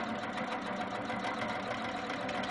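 A sewing machine quilts a pieced quilt border, running in a steady, continuous mechanical hum and rapid needle chatter at moderate level, close by, with no voices.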